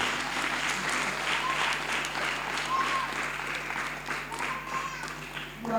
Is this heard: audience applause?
yes